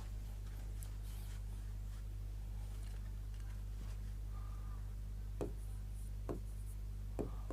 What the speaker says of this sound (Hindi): मैं शब्द लिख रहा हूं कुछ